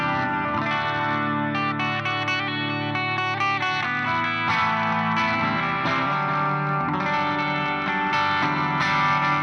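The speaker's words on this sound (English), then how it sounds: "So this is my clean signal, no pedal." Clean electric guitar played straight into the amp with no pedal, steady sustained chords and notes ringing loud and continuous with no other sounds.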